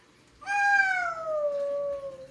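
A small child imitates a cat's meow with one drawn-out, falling vocal meow, loud and close, with no other talk during the sound.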